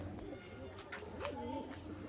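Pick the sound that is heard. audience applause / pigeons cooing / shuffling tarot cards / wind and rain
pigeons cooing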